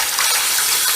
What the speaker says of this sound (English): It needs a little bit of rinsing under running water